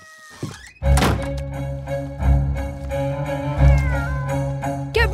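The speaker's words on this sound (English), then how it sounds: "won't the cat chase us?" A cartoon cat meows and caterwauls in several drawn-out, wavering cries over heavy thumping impacts, close and loud, with a brief squeal near the end.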